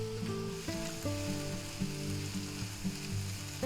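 Chopped spinach leaves sprinkled into a sizzling pan while making chicken fettuccine alfredo, giving a steady, close frying hiss with a low tonal hum underneath.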